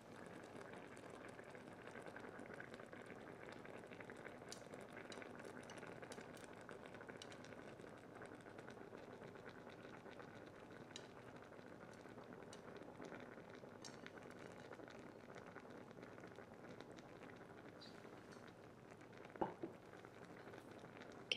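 Ratatouille with aubergine simmering in a pot, a faint steady bubbling hiss with soft scattered pops and occasional light clinks throughout, no voices.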